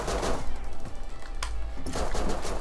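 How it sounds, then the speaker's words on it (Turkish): Gunfire in the survival video game Rust, rapid shots merging into a dense, loud, continuous crackle with no pause. "Çatışma var burada."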